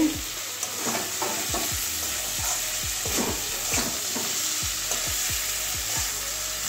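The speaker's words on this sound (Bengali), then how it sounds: "এবার আলুটা আগে দিয়ে দেবো। পটলটাও দিয়ে দিচ্ছি।" Potato and pointed gourd pieces frying in oil in a pan, a continuous sizzle with repeated scraping and clinking strokes of a spatula stirring, close and steady, no voices.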